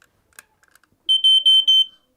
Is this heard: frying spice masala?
no